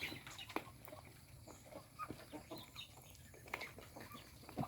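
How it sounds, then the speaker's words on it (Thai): Chickens cluck in short, scattered calls against a quiet outdoor background, fairly faint and spread across the stretch. "มีเป็ดมีไก่มันกินอยู่ในน้ำพี่น้อง"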